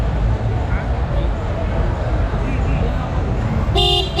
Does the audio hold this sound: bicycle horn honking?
yes